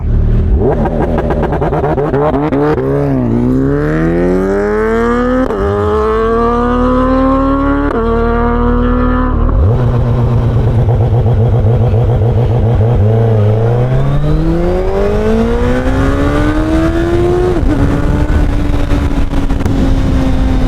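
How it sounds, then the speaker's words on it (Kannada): A tuned car with modified exhaust launches hard under heavy throttle, its engine loud and close, revving up through repeated rising sweeps with brief dips at each shift, then settling into a sustained high drone. "ಲಾಂಚ್ ಹೆವಿಯಾಗಿ ಹೋಗುತ್ತಪ್ಪ ಗಾಡಿ."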